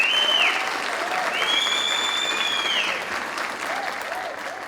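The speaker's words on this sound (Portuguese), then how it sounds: "todos estão de pé, aplaudindo Ellen Oléria" Audience rising for a standing ovation, sustained dense applause with cheering whistles and whoops, steady then easing slightly, no talk.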